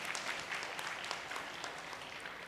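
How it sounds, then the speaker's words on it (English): Audience applause at a school award ceremony as a delegate award winner is called up, a steady, fairly distant patter of many hands clapping that carries on throughout. "Give her a huge round of applause,"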